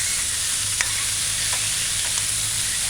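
Mixed vegetables being stirred into a fish fillet stew in a hot pot, a loud, constant sizzle with a few light scraping strokes of the spoon and no talking.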